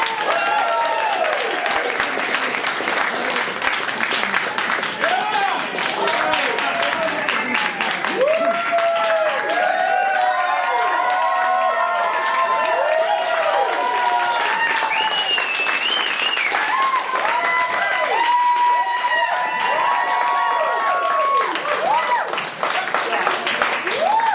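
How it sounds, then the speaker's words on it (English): An audience at a winter student showcase applauds a student class, sustained clapping mixed with cheers and whoops from a lively crowd, continuous throughout. "Big round of applause for them."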